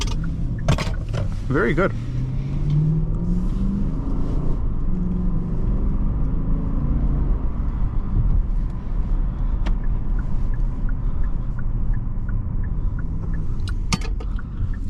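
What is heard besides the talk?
2018 Genesis G80 5.0 car making a U-turn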